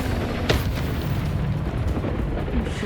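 A Confringo spell blast in Hogwarts Legacy, one sharp booming burst followed by a dense, loud rumbling wash of combat noise that stays heavy throughout.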